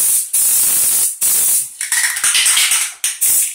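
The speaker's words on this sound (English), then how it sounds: "and then just spray." A paint sprayer applying bathtub resurfacing coating to a wall, loud close hissing bursts that start and stop, long sprays first, then a run of short choppy pulses, with no talking.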